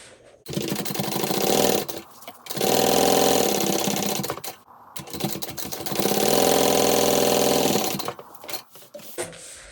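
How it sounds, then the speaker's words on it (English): A sewing machine stitches the sides of a handbag in two loud, sustained runs of rapid whirring with short pauses before, between and after them. "I'm just going to sew the sides from this side."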